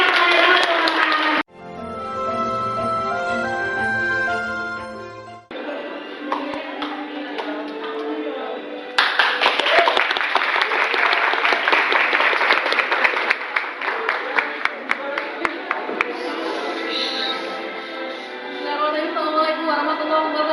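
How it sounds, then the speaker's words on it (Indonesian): An audience at a student presidential candidate oration gives loud, sustained applause and clapping that swells after a brief pause, with a voice talking briefly in between. "Tepuk tangan sekali lagi kepada teman-teman"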